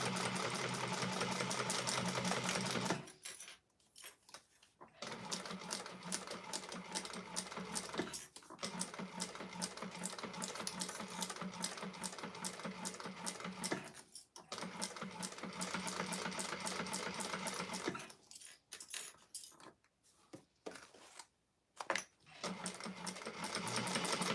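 Sewing machine stitching a leather clutch wallet, a loud continuous mechanical whirring run of stitches broken by several short pauses where it starts and stops.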